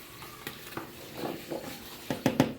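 Food being mixed with chaat masala in a dish, with soft scraping and stirring strokes and a few sharper taps of a spoon against the dish, close and fairly quiet, no talking.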